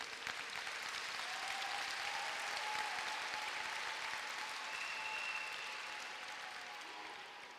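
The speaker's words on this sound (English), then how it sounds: "for that, we applaud you" Applause fills a high school graduation ceremony as the audience claps for the graduating class, a broad continuous wash of hands that swells briefly and then eases off gradually, heard without talk.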